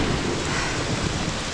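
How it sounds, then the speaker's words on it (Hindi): Sudden heavy rain falls on a forested mountainside near a cave entrance. It makes a dense, constant roar with no voices and no breaks. "यहां पहुंचते ही अचानक तेज बारिश शुरू हो गई"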